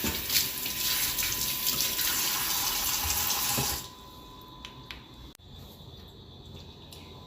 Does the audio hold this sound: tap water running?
yes